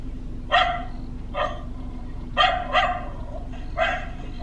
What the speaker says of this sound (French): j'appuie sur l'aboiement de chien de mon application